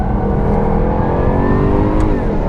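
A 2016 Jaguar F-Type R AWD coupe pulls hard at full throttle on a race track, its engine roaring loud and continuous as the revs climb steadily, with no talk over it.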